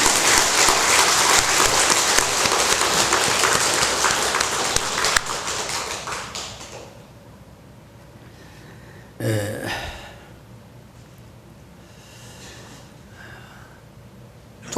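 Church congregation applauding, a full, loud burst of clapping that lasts about six seconds and then dies away into quiet room noise with a brief thump.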